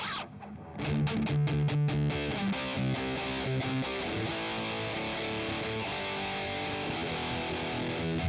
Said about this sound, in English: Next up we have the famous Metal Zone.